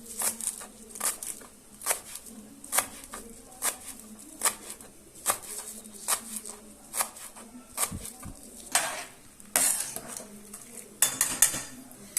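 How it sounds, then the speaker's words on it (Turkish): A knife finely chops three or four homegrown garlic cloves on a board, the close, crisp taps coming in quick irregular bursts with short pauses between. "3-4 tane sarımsak bahçemden topladım saksılarımdan İncecik kıyıyorum"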